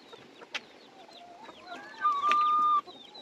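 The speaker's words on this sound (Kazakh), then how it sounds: "Мынанша тауықтарымыз бар." Chickens in a coop cluck and chirp softly, with one longer, louder call rising near the end. The sound is close and fairly quiet, and no one is talking.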